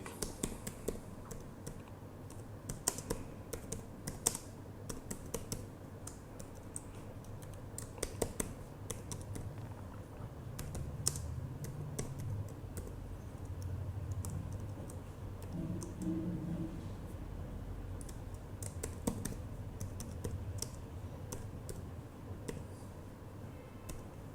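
A computer keyboard clicks quietly as Java code is typed, with irregular bursts of keystrokes and short pauses against a faint, hushed room background.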